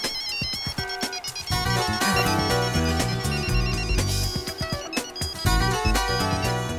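A mobile phone ringtone plays loudly and close, a bright repeating electronic melody with steady rhythmic notes that continues for several seconds with no talking over it.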